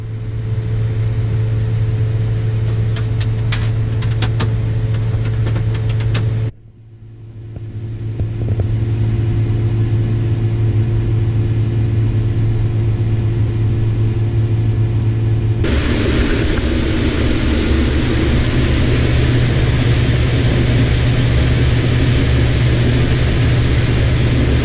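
A combine harvester in a corn harvest runs while unloading its grain bin, giving a loud continuous engine roar that drops briefly, then returns and later gains a brighter, hissing rush as unloading continues.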